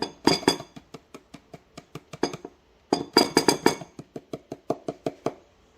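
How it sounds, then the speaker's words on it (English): Whisk beating flour batter in a bowl, quick metallic clinking taps against the bowl in two bursts of rapid strokes that slow and fade, close and clear with no talking. "So I've switched to the whisk just to get all those clumps out"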